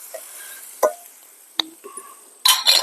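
Dry fish curry sizzling in a pan while being stirred, with a few scattered scrapes and clicks and then a brief louder burst of frying and stirring near the end; no talking.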